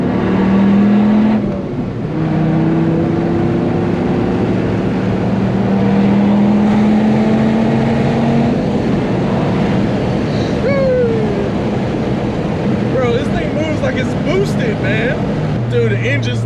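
A third-generation Dodge Viper engine pulls under acceleration, a steady loud drone rising in pitch through the gears, with wind rush and a voice talking over it.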